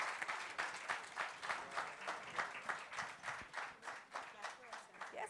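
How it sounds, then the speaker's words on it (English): Studio audience gives a sustained round of applause at the end of a talk show conversation, dense clapping in steady rhythmic waves for the whole stretch. "Big applause."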